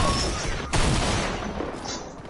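Gunfire in a keyboard-and-mouse video game: a dense, loud burst of shots with a sharp crack near the middle, continuing through the short stretch.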